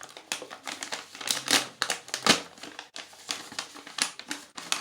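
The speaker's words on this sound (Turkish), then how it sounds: "Sürpriz hayvan paketi gördüğünüz gibi. Hemen bunu da açalım." A plastic surprise animal toy pack is torn open by hand, a close run of crinkling and ripping bursts with short pauses, loud and alone with no voices.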